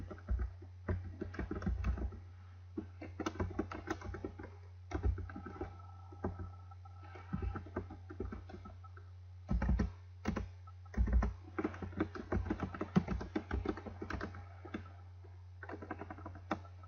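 Computer keyboard typing while entering text for a beginner HTML5 webpage, a steady run of close, quick key clicks in bursts with short pauses and a constant low hum underneath, no talking.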